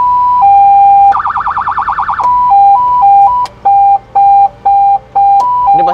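An electronic emergency siren blares loud and close in an open rice field, first a steady tone, then a fast warbling wail, then choppy alternating two-tone blasts with brief gaps, with no voices.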